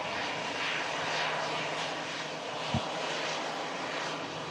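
An Aer Lingus airliner arriving from Dublin gives a steady, broadband jet-engine roar that holds at an even, fairly loud level throughout, with no voices.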